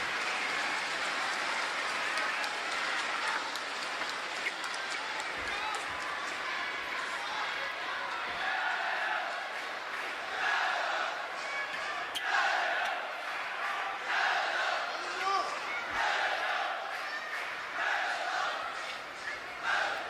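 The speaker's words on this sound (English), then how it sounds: "You kind of hear hands are being clapped by delegation of PLA supporting Fan Zhendong here today in the venue" Scattered clapping from a PLA delegation in the arena at a Chinese National Games table tennis men's singles final, Ma Long against Fan Zhendong, spread steadily under a broad crowd hum with occasional louder bursts.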